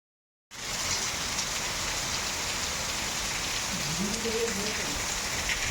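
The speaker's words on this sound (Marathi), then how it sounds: "पाऊस मोठा आलाय थांबून" Heavy rain pours steadily in Sanjay Gandhi National Park near the Kanheri Caves, a dense, constant hiss of drops on surfaces that starts abruptly after a brief silence and holds loud and even throughout.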